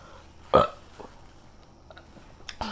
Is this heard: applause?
no